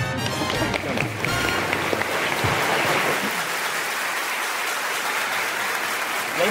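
An audience at an evening gala applauds, with sustained, dense clapping of many hands heard alone at a steady level from start to finish.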